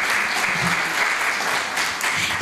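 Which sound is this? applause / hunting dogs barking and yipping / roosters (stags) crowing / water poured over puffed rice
applause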